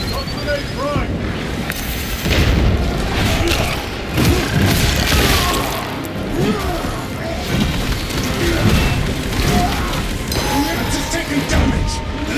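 Grenade blasts from the Space Marine 2 video game, heavy booming explosions and crashing debris repeating through a loud battle, mixed with game combat noise.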